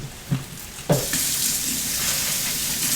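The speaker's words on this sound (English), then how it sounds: "I hear some sizzling, so I'm trying to get over here pretty quickly." Steady loud sizzling of rice frying in a hot pan, after a couple of soft clunks.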